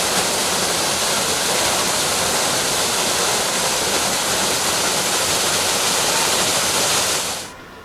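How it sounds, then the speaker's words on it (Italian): A small waterfall from a disused olive-mill channel pours straight into a stream, a loud, steady rushing hiss that holds for several seconds before cutting away at the end. "l'acqua forma una cascatella che conferisce direttamente al torrente"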